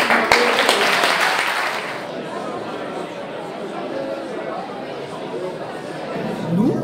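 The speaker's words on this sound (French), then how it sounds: "vous pouvez vous applaudir" Audience applause at a French civic gathering on 11 November, a broad crackling burst of clapping loudest in the first two seconds, then thinning to scattered claps under crowd murmur and voices.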